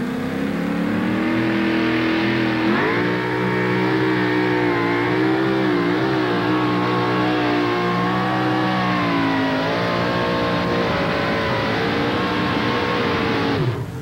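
A brand-new 572 Rodeck engine roars through a drag-racing run at a 1987 Nashville event. The engine holds a loud, sustained, close-up howl with shifting pitch for the whole stretch, with no voices over it.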